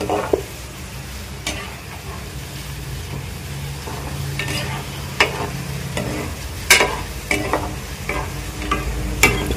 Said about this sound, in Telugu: బంద్ చేసి ఆ వేడి మీద కొంచెం ఇట్లా వేసి వేయించుతున్నాం. ఎల్లిపాయలు ఒక్కటే.